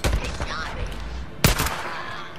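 A gunshot rings out in the Days Gone video game amid a dense soundscape, with a sharp loud burst midway after earlier fainter shots and a voice speaking in the background.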